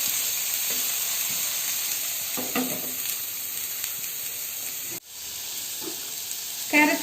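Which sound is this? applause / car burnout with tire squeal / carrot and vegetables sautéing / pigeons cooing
carrot and vegetables sautéing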